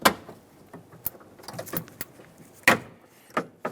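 Plastic wiring clips pried loose from the door of a 2003-2011 Mercury Grand Marquis with a trim tool or pick, giving a series of sharp, close clicks and snaps scattered between quiet pauses.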